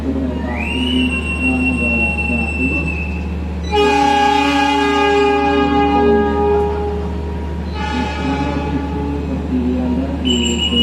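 Indonesian passenger train at a station, with long sustained horn blasts in two bursts over a steady low rumble of engines and rail noise, loud and close, with a rising tone near the start.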